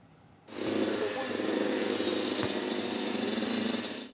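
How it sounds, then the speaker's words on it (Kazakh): A motorcycle engine starts up abruptly and runs at a steady, rough idle, loud and close, with a constant droning rumble. "Эмиль Тахватуллин мотоциклда 1 елдан артык җилдерә."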